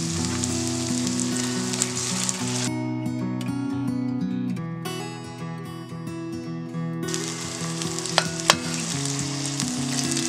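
Onions sauté in a pan over a medium flame for a country chicken curry, giving a steady close sizzle with occasional stirring scrapes under tonal background music.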